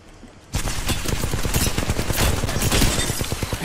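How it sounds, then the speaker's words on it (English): Automatic gunfire in the video game Apex Legends, a sudden loud burst of rapid shots that continues without pause for several seconds, no talking. "Getting shot at."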